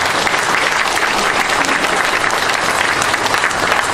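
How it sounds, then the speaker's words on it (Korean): Loud, sustained applause from a large audience at a formal ceremony honouring a minister, dense steady clapping throughout with no pause. "장관님께 뜨거운 박수 부탁드립니다"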